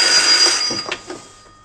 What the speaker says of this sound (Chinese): 有电话